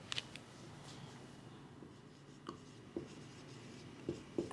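A formula is handwritten in an accounting tutorial, making soft, faint scratching strokes with a few light taps and clicks scattered through a quiet background.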